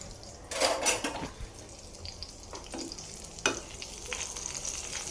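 Eggplant slices frying in a pan for begun bhaji, with a soft continuous sizzle punctuated by a few louder scraping bursts of the spatula against the pan, close and moderately loud, no talking.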